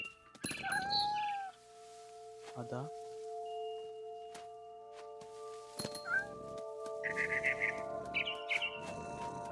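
Video game cat meows and yowls sound alongside sustained musical tones, with bird chirps flickering in and out, fairly quiet overall, from What Remains of Edith Finch.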